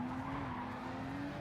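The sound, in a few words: racing game car skidding after missing its braking point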